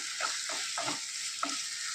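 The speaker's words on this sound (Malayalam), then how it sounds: "ഈ സമയത്തേക്ക് നമ്മൾ എടുത്തു വച്ചിരിക്കുന്ന ടൊമാറ്റോ, തക്കാളിയും കൂടി ഇതിലേക്ക് ചേർത്ത് കൊടുക്കുക. വീണ്ടും നന്നായിട്ട് ഇളക്കി യോജിപ്പിക്കുക." Tomatoes sizzle in a pan with onions and green chilies while being stirred for egg mappas, a steady frying hiss broken by several soft scraping stirs, close and fairly quiet.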